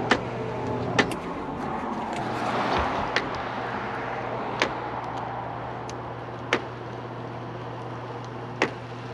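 Electric convertible top of a BMW E36 318ti California running in cold weather while the car sits on a charger, giving a steady motor whir with periodic clicks and clunks and no talk.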